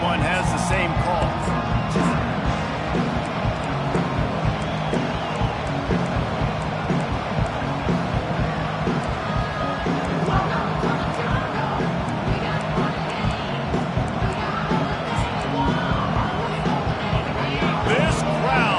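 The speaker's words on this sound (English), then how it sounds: "This crowd, full throat, splitting the eardrums and letting them know it's going to be a long day" A dense, continuous roar from a stadium crowd at an LSU Tigers football game, loud and unbroken throughout, with a commentator talking over it.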